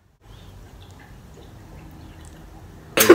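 A puppy laps at its water, producing faint, soft rhythmic wet sounds that run steadily at low level, ending in a sudden loud burst of noise.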